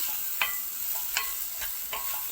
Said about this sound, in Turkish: Ve karıştırıyorum tekrardan.